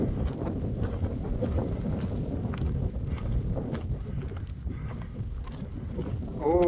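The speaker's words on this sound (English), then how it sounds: "Oh, it's windy up here." Wind buffets the microphone on an exposed gritstone edge at Rylstone, a loud, constant low rumble with gusty swells that lasts the whole stretch, without talk.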